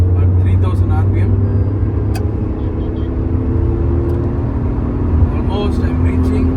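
Engine drone inside a Tata Tigor cruising in third gear at about 3000 RPM and near 110 km/h, a loud steady hum with road noise while someone talks over it.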